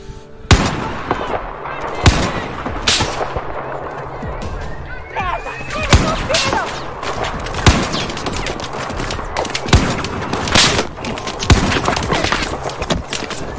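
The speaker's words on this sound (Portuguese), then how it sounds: "Sair atirando." Rapid gunfire from the Battlefield 4 video game on PS4: repeated loud bursts and single shots crackle throughout, some sharp and close, with continuous combat noise between them.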